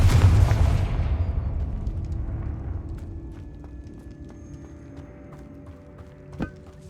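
A Confringo blasting spell erupts in Hogwarts Legacy inside a tomb: a heavy, booming explosion hits at once and then rumbles away over several seconds, with a few faint clicks and debris ticks trailing off.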